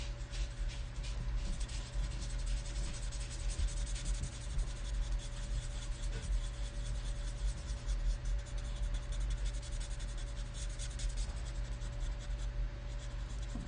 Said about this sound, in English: these are alcohol-based markers, so you can go over and over and over multiple times, and it's not going to tear your paper